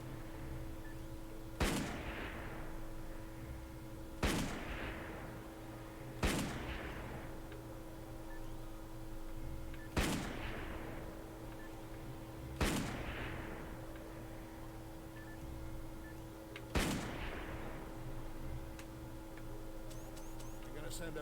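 Six sharp sniper rifle shots from the Darkest of Days video game ring out one at a time, each a few seconds apart and trailing off in a short echo, over a steady low hum.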